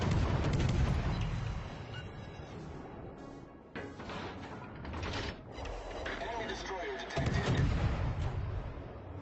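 Warship gunfire in World of Warships: Legends, with repeated heavy booming salvos and rumbling blasts filling the clip at steady loudness, punctuated by sharper mechanical clanks.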